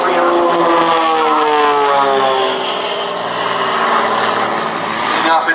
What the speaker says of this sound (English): It's a single-seat aircraft, the XA-41 with a Lycoming 580 piston engine.